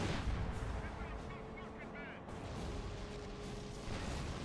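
Heavy booming blasts from an anti-tank gun in a video game, with deep thuds, low rumble and battle noise throughout and a voice talking over it.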